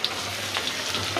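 Onions crackle and sizzle in leftover prawn-frying oil, a steady close hiss with a few brighter pops and no voices.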